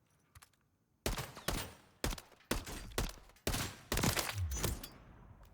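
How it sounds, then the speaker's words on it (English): Holger 556 rifle shots ring out in a video game as seven sharp, loud reports at roughly half-second intervals, each with a short echoing tail, after a few faint clicks. "Exactly 7 shots."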